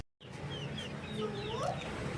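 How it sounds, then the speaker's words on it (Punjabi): An Aseel rooster clucks repeatedly at close range in a farm setting, short rising calls over a steady background hum, with no talk. "ਇਹ ਜੀ ਮੁਰਗਾ"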